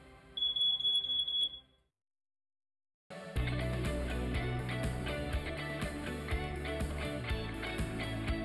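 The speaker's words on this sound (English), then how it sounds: "make sure every home has a working smoke detector" A household smoke detector alarm sounds a rapid run of high, piercing beeps for about a second. Brief silence follows, then loud, dense, continuous sound takes over.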